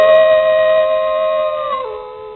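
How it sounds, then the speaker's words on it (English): A wolf gives one long, steady, tonal howl, loud and clear, holding its pitch before dropping slightly near the end. "Wolf."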